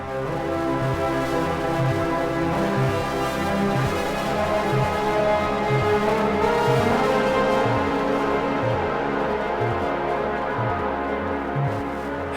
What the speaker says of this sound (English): And it's a very distorted, reverby kind of thing.